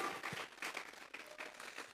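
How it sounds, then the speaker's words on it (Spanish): A church congregation in a Spanish-language service claps together as an offering of praise to God. The applause is faint and somewhat distant, with dense, steady clapping that swells in waves for about two seconds. "Vamos a regalarle ofrenda de palmas al Dios de la gloria."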